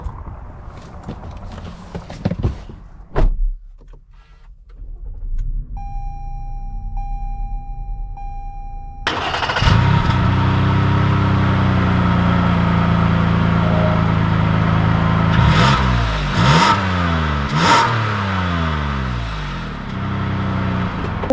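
A 2020 Toyota Highlander XLE three-row SUV starts up after a few quiet clicks and a chime, then idles and pulls away. The engine note rises in repeated revving sweeps as it accelerates, loud and close.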